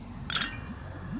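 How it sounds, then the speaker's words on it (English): Glasses clinking together in a single bright chime during an in-game toast, heard once briefly over a low ambient background hum. "Raise your glass."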